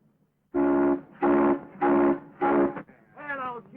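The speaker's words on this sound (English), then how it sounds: "You blow that whistle again" A steam locomotive whistle in a 1929 Western setting, four loud, evenly spaced blasts followed by a weaker, wavering fifth toot, each a rich, harmonic tone heard alone and close.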